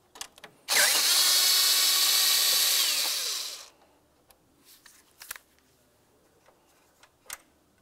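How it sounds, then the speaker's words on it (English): A power driver whirs loudly for about three seconds, winding out an 8mm bolt from the radiator fan assembly of a 2009-2019 Ford Flex, then trails off into scattered metallic clicks and handling noises. "move along to removing each of your two 8mm headed bolts"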